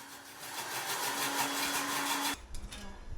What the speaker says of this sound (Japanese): 先ほどの煮込んでいた桃ソースをミキサーにかけて攪拌していきます。